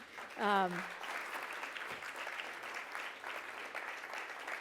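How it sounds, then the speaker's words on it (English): Steady applause from a conference audience, heard at moderate distance. A short voiced shout or cheer rises above the clapping near the start. "if I could ask the audience to just give a round of applause to"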